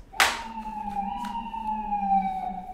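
Ambulance siren sound effect: a sharp burst opens into a steady, loud wailing tone held with harmonics throughout, with no talk over it.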